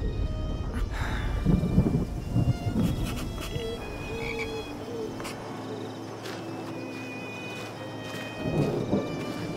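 A thunderstorm in an animated adventure set in Egypt, with rolling thunder rumbles and steady rain hiss throughout, loudest near the start and end, no talk.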